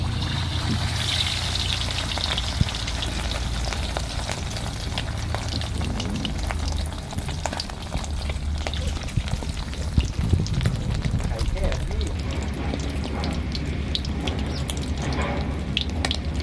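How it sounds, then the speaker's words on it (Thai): Steady hissing sizzle of a crocodile egg frying in a hot pan, with crackles and pops throughout, continuous and fairly loud, a voice talking faintly beneath. "กระทะร้อนแล้วครับ ใส่ไข่ลงไป"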